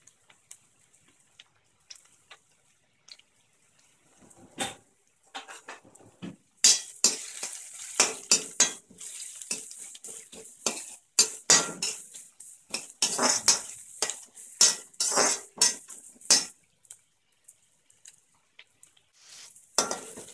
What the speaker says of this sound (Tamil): ஸோ இப்போ நம்ம எண்ணெயில் வந்து வெங்காயத்தை சேர்த்துக்கிறோம்.